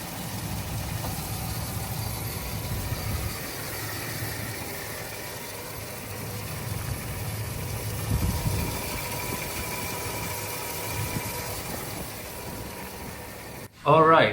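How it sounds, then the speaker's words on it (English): A 2019 Ford F-250 Super Duty pickup's 6.2-liter 32-valve V8 idles with a steady low rumble throughout, ending in a brief louder knock. "Let's take a close look at the engine."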